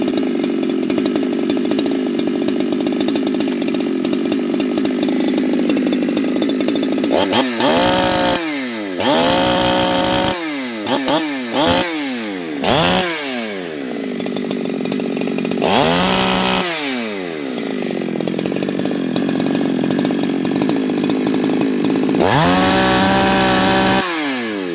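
A ported chainsaw roars loud and close for the whole stretch, holding a steady high rev between repeated throttle blips that rise and fall in pitch, with no talk over it.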